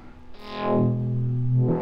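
A guitar tone run through a sine-wave-modulated bandpass filter in Propellerhead Reason, a sustained distorted note whose filtered resonance sweeps upward then settles into a steady, buzzy hum, loud and alone.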